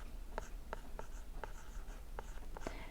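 Marker strokes on a classroom board while writing out a subtraction problem in a math lesson, heard as a series of short, sharp squeaky strokes spaced unevenly over a steady low room hum.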